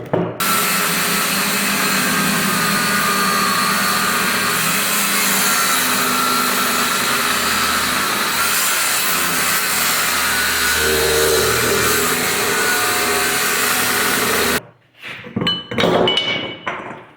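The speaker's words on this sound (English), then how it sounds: "the 7-inch grinder with the cutoff wheel did a pretty nice job" A 7-inch angle grinder with a cutoff wheel cuts through steel yokes from a stump grinder, a loud, steady, harsh whine that runs unbroken for about fifteen seconds, then stops, followed by some clanking of metal.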